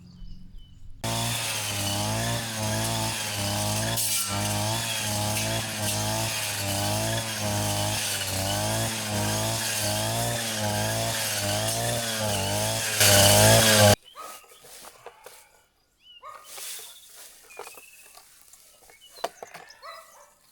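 A chainsaw runs loudly and steadily for several seconds, its engine pulsing as it cuts, then cuts off abruptly, leaving quieter rustling and clatter.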